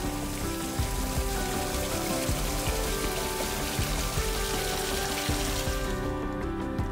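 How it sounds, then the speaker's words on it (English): Steady, dense rush of falling water, a constant broadband roar with no pauses, fairly close and even in level throughout. "the sounds of the waterfall"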